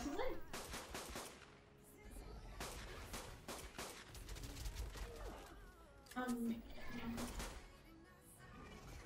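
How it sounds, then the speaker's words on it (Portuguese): Grenades explode in ARK: Survival Evolved, a string of sharp, broadband blasts spread across the scene, fairly quiet overall and mixed under people talking. "parece que a granada tá fazendo mais efeito"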